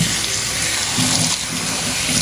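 Tap water runs steadily into a sink while fresh fruit is washed, a close, continuous splashing gush with slight shifts in flow.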